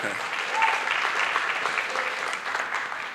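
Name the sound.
ceremony audience applauding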